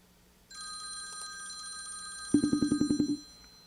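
A telephone rings steadily during a call, with high electronic tones and a fast pulsing burst of rings near the end, heard alone with no talk.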